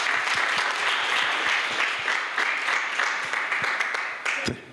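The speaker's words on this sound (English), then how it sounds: "So can we give a clap to Dr." A conference audience applauds steadily, many hands clapping in a dense, sustained wash that begins to fade near the end.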